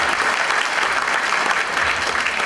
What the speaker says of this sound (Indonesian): Sebelum saya lanjutkan penjelasan saya minta tolong tepuk tangan buat kita lagi semuanya.